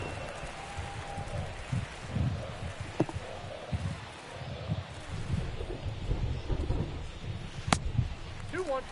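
Steady rain falls over a ballpark during a baseball game in MLB The Show 22, a continuous broadband hiss with faint crowd and commentary-like murmur beneath it. No thunder is evident.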